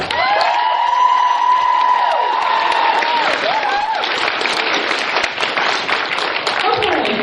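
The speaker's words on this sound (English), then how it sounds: "one big more round of applause for her" A convention crowd at Animaritime 2017 gives a loud, steady round of applause and cheering for a performer. Dense clapping and whoops run throughout, with sustained tonal sounds underneath.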